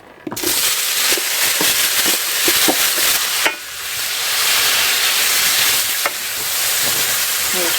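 Loud, crackling sizzle of fish frying in a hot pan, with scattered pops and a few clatters of utensils, no talking.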